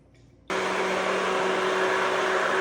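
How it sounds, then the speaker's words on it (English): A hand blender mixes blueberries, blackberries, plain Greek yogurt and oat milk, switching on abruptly after a short quiet moment into a loud, steady motor whine with a sustained tonal hum. "This hand blender is an incredibly useful tool."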